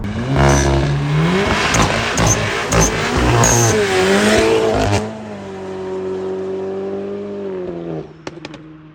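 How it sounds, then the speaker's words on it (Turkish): A tuned 550 hp stock-turbo Audi S3 launches hard with launch control, its engine roaring loudly and continuously for about five seconds. The engine then settles into a steady, lower drone with a few brief sharp noises at the end. "Evet şimdi şuraya bir launch koyalım abi."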